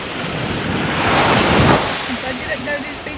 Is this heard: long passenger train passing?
no